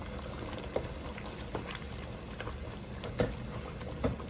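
Homemade chicken curry with tomatoes simmering in a pot, a soft, low bubbling with occasional distinct pops and plops, faint and close, with no voices.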